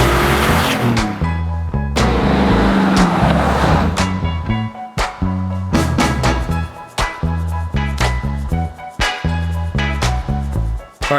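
Exhaust pops and crackles from a car running FiTech fuel injection while driving, a loud, steady engine note broken by many sharp irregular bangs, with no talking.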